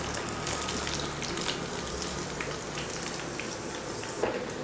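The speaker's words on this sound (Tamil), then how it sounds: "இதே போல் எல்லா மீனையும் பொரிச்சு எடுத்துக்கலாம்" Rock fish frying in hot oil after being turned on both sides gives a steady, close hiss and crackle throughout, with a few sharper pops standing out near the end.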